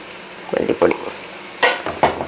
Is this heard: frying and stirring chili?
yes